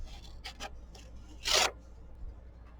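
Scissors make a single clear rasping snip through material, preceded by a few faint rustles and handling sounds, close and otherwise quiet.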